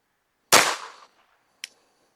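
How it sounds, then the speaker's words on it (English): A single sharp gunshot from a Taurus TX22 .22 pistol firing at a target, loud and close with a short decaying tail, followed by a faint metallic clink. "Let's shoot a group at that middle left target."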